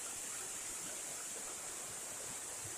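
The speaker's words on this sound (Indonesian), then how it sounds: "Ini air terjun tingkat 6." Sixth tier of a seven-tier waterfall in Aceh Tamiang, heard as a steady, dense rush of falling water with a constant hiss, unbroken and fairly even in level for the whole stretch, with no voices.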